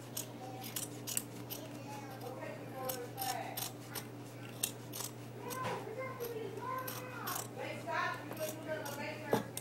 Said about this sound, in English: So what I'm going to do is just cut a very long strip. I'm cutting it over here.